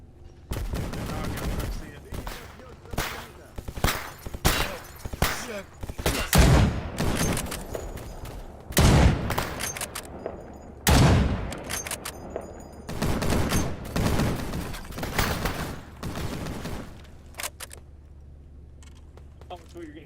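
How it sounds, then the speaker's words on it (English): Very loud gunfire in the shooter S.T.A.L.K.E.R. GAMMA: repeated close, punchy bursts of shots in uneven volleys that dominate everything else, with brief pauses between strings and a quieter tail at the end. "it's so loud that it like you can't hear anything else but the gun when it's going off."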